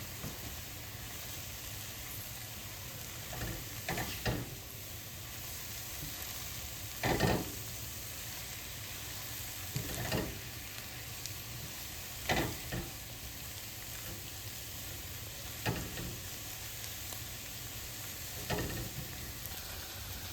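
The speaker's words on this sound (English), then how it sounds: "Stir them around and saute them for a few minutes." Food sautéing in a pan, a soft continuous sizzle punctuated every couple of seconds by brief scraping stirs of a utensil, close and fairly quiet with no talking.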